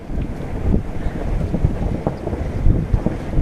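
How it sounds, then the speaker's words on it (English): A strong rush of wind buffets the microphone, rumbling and roaring for several seconds with uneven surges. "We got a little bit of gust."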